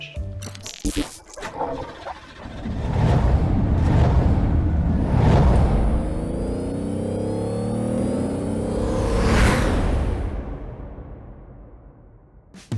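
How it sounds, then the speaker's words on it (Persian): A Lamborghini Urus engine heard from inside on a test drive: a deep, loud roar that swells with revving and acceleration, eases off, then surges again before fading. "صدای ماشین انقدر حال میده."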